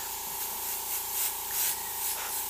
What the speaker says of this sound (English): I don't want to spray too dark.